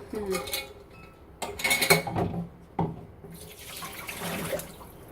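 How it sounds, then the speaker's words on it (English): Hot water poured out of a canning pot into a sink while making homemade salsa, a splashing gush with clanks of pots and utensils, fairly close and moderately loud. "I'm just dumping out the hot water."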